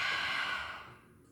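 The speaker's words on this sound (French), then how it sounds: "Et go, on expire." A single long, breathy exhale during a Pilates glute and abdominal exercise, starting strong and close, then fading into quiet.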